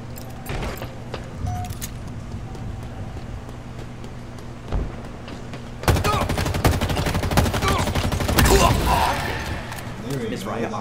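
Gunfire in a video game gunfight, with scattered shots early on and then a dense, loud burst of rapid automatic fire and clatter from about the sixth second onward.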